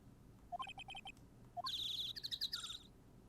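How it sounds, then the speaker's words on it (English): Chirping birds in the Phoenix Wright: Ace Attorney video game, heard as a rhythmic series of bright electronic tweets followed by a longer, busy run of high warbling chirps, loud and close over soft background hum, with no speech. "I'm hearing birds. They're very loud."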